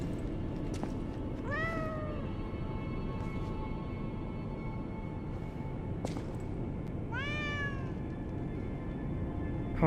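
Two clear cat meows, one early and one later, rising and falling in pitch, heard over a steady background hum from the Lies of P game.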